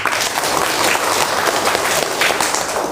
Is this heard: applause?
yes